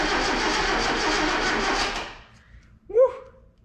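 A 1977 Datsun B210 engine cranking on the starter for about two seconds, a steady loud whirring churn that cuts off, followed by a brief exclamation.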